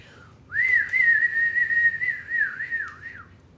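A person whistles one sustained, wavering note that slides gently up and down for about three seconds, close and clear with no talking.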